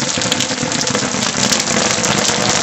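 Heavy rain falling in a mountain village, a loud, dense and continuous hiss of drops hitting surfaces close by, with no letup.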